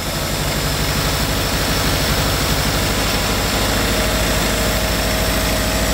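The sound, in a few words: 1960 Škoda Octavia engine idling after years standing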